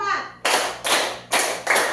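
A classroom group claps hands together in four sharp, loud, evenly spaced bursts, each a short group clap, with a voice briefly heard before the first.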